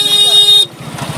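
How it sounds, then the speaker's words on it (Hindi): A new Hero Glamour BS6 five-speed motorcycle runs while being ridden, its engine putting out a steady loud pulsing note close by, with a brief horn-like tone that cuts off partway through. "अभी जा रहे हैं नया बाइक पे"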